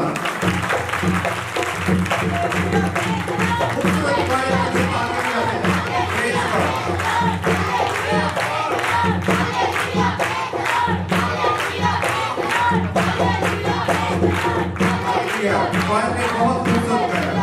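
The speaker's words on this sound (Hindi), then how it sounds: "खूबसूरत क्वायर के लिए जोरदार तालियां।" Loud, sustained clapping from a church congregation at a Christmas festival for a choir, mixed with shouts and cheers, with a full crowd carrying on without pause.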